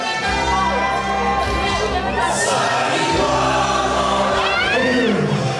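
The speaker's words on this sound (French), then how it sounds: "Ok, on va l'applaudir quand même." Cheering, whooping and shouting from a crowd at a 50th birthday party, loud and continuous, with excited voices rising and falling over one another.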